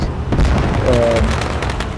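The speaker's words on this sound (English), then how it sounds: "as the fireworks go off in this fantastic" Fireworks boom in the iRacing video game at the end of a race at a Malaysian circuit, dense crackling bursts over a continuous loud rumble, with a commentator talking underneath.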